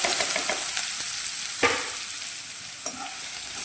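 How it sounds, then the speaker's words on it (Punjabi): Finely chopped onions fry steadily in hot oil, with a continuous sizzle and a few sharp scrapes and clinks as a spoon stirs them around the pan. "ਇਹਨੂੰ ਲਗਾਤਾਰ ਆਪਾਂ ਉੱਤੇ ਹੀ ਹਲਾਉਂਦੇ ਹੋਏ ਭੁੰਨਾਂਗੇ ਜਦੋਂ ਤੱਕ ਇਹ ਜਿਹੜਾ ਪਿਆਜ਼ ਗੋਲਡਨ ਨਹੀਂ ਹੋ ਜਾਂਦਾ"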